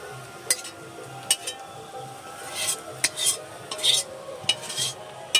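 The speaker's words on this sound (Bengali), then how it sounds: "শাকটাও নেড়ে চেড়ে বেশ সুন্দরভাবে ভাজা হয়ে গেছে" Leafy greens stirred and fried in a pan for a vegetarian meal, with repeated scraping and clinking strokes at an uneven rhythm over a faint steady sizzle, close and moderately quiet.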